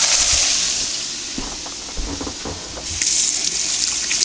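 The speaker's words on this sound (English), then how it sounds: "rinse my hand off." Tap water runs in a steady, loud gush while a hand is rinsed under it, with splashing shifts in the flow throughout the few seconds.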